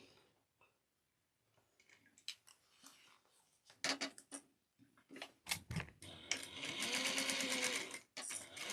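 Sewing machine basting a zipper pouch: scattered handling and short starts, then a rising run of fast, even stitching, close and distinct, with no talking.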